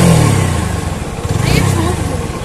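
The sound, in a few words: motorbike engine revving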